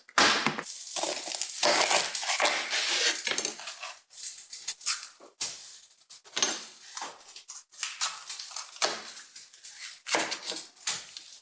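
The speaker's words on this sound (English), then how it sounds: "Let's wash these peppers and get them sliced." Peppers being washed and sliced with a knife in a home kitchen, heard as a steady run of close clattering, scraping and chopping knocks with short pauses between bursts, and no talking.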